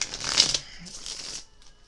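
A quick riffle of tarot cards being shuffled, a brief papery flutter close by, fading into soft handling noise.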